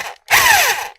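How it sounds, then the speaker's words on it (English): Power drill boring into a stripped fork slider leg on a 1989 Harley-Davidson Evo Softail, a loud steady whine with a falling pitch sweep, preceded by a brief short burst and a pause. "let's start doing some drilling."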